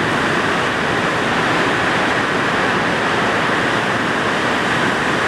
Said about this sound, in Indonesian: ini hujannya deras banget